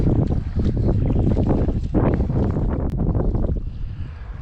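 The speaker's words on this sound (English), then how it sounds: "Well, that wind's still whipping." Strong wind buffets the microphone on a lake during trout fishing on a cold, windy evening, a loud continuous roaring rumble with gusting surges that eases slightly toward the end, no speech.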